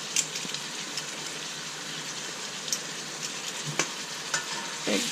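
Three peeled garlic cloves drop into a pan of onions with some liquid, giving a steady broadband sizzle with a few brief pops and stirring scrapes, fairly close and without voices.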